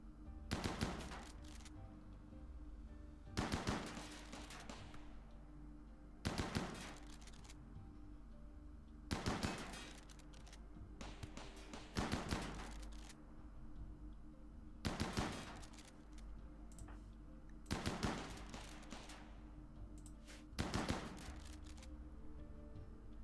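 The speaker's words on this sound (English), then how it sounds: "A turret is in the next room, and we will attempt to have a colonist fire on it." Bursts of automatic gunfire in the colony game Rimworld as a colonist fires on a turret in the next room, short repeated volleys every few seconds, fairly faint and evenly spaced, with no talking.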